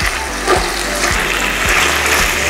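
Carrots and chicken sizzle in sunflower oil in a pan, a steady close hiss with occasional soft stirring scrapes and knocks.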